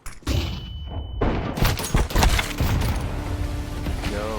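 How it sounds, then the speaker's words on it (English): Flashbang grenade going off in a video game, a sharp loud blast followed by a ringing high tone and more booming explosions and shots trailing off, with no one talking over it. "Throwing flashbang."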